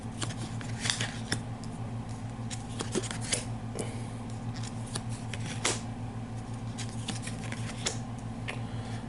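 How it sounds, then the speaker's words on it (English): Cards for the Fireteam Zero board game being drawn and handled up close, making soft scattered flicks and slaps over a steady low mechanical hum. "let's draw some cards here"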